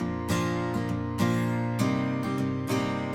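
Strummed chords from the Strummed Acoustic 2 virtual acoustic guitar preset in an acoustic pop production, bright and full, with fresh strums roughly every half second to second ringing into one another, no voices.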